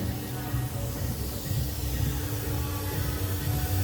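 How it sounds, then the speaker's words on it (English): Air compressor pump pushing air into a Boost One treadmill bag at a training facility, a steady close hiss with a low rumbling hum running throughout. "That there is the air pump, air compressor, which pushes the air into the bag itself."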